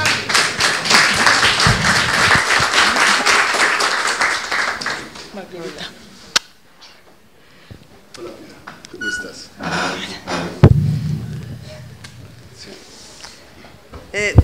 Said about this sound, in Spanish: No, prefiero que aplaudamos a Piedad.